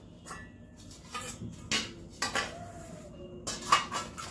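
Clinks and knocks from a bowl and utensils being handled in a home kitchen while radish paratha is prepared: several light ceramic and metal taps spread across the moment, fairly quiet and close, with no one talking.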